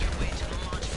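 A quick gunshot in a video game lands as a headshot, a faint crack in a second of busy game noise.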